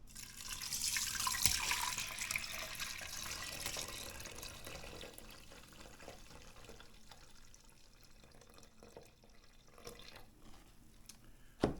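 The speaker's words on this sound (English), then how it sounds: "I'm gonna pour this broth." Broth pours steadily at close range, loudest at first and then tapering into a softer trickle, with no voices.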